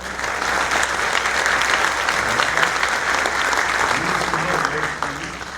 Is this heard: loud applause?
yes